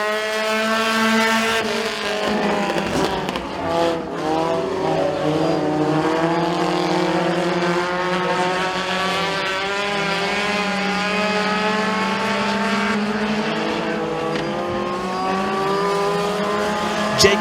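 Bandit class race cars roar down the front straightaway at McKean County Raceway, several engines layered with rising and falling pitch as they pass, loud and continuous without talk.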